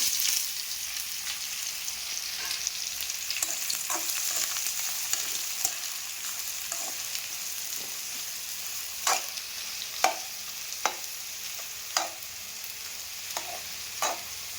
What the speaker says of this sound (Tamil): நாலு வெங்காயம் பொடிசாக நறுக்கி